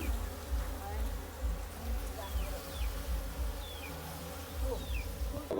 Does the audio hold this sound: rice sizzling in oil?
no